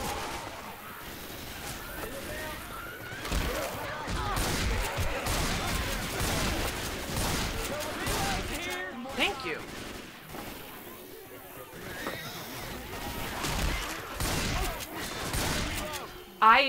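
Dense gunfire rips through a Left 4 Dead 2 zombie fight at the Dark Carnival. Rapid bursts and single shots overlap in loud, continuous volleys, with game noise and shouting voices mixed in.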